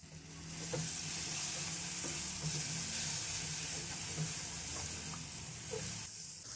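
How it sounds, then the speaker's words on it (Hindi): Chopped tomatoes tipped into spice masala frying in oil for dhaba-style dal tadka, a loud steady sizzle with occasional stirring scrapes, close up and without talk. "अब हम इसमें डालेंगे टमाटर।"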